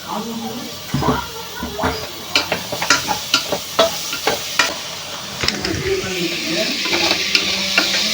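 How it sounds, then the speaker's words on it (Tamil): Chopped tomatoes sautéing in a pan for vegetable biryani, with a continuous loud sizzle and a rapid series of sharp spoon scrapes and taps against the pan. "அதையும் சேர்த்து நல்லா வதக்கி விட்டுக்கலாம்."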